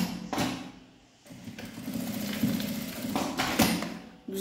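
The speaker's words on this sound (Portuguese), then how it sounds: "Vou passar uma costura reta aqui." A sewing machine runs a straight seam on a fabric messenger bag, its motor whirring in steady close-up bursts with a brief pause early on before stitching resumes.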